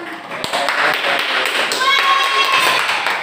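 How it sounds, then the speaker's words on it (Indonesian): A classroom audience of university students claps after a group presentation, with dense, steady hand clapping throughout and voices mixed in. "Tepuk tangan."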